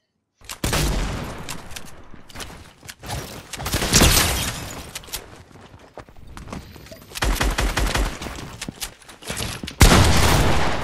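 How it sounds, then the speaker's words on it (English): A heavy shotgun fires in a video game, a string of loud, sharp blasts over roughly ten seconds, with a dense cluster near four seconds and more shots toward the end. "it's the heavy shotgun I'm using."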